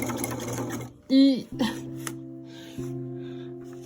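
A sewing machine stitching a Regency corset, with short bursts of mechanical whirring and stitching that start and stop, and a person talking quietly between and over the runs.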